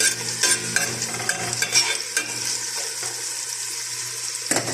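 Onions and meat stir-fried in a pan for matatis give a steady close sizzle with scraping stirs and clinks of the utensil, ending in a sharp knock.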